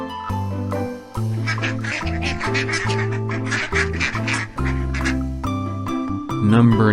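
Duck quacking over a steady background music bed, the bird's calls coming as a rapid string of rough nasal bursts that stay moderately loud throughout.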